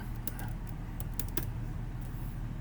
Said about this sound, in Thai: ผมก็พิมพ์ง่ายๆนะครับ